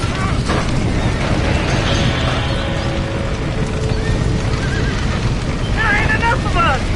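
Horses neigh and whinny in panic inside a burning barn in the video game Red Dead Redemption, shrill cries rising over roaring fire, crackling and shouting voices.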